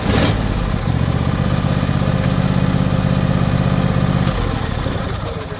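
A John Deere E130 lawn tractor engine runs steadily nearby, a loud, even mechanical drone with a faint clatter, holding level throughout.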